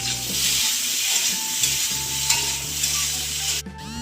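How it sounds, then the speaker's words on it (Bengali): A paste of drumstick, garlic and onion fries in hot oil with a loud, dense, continuous sizzle close by, ending in a brief hiss and scrape as it is stirred. "এখন সজনের পেস্টটাকে তেলের মধ্যে দিয়ে একটু কষিয়ে নিচ্ছি"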